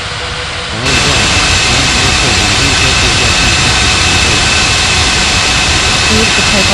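Jet airliner engines roar steadily at close range on takeoff from runway 27 at Bali, the loud broadband thrust surging in abruptly and holding unbroken.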